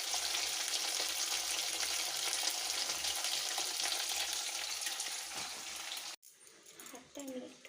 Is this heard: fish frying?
yes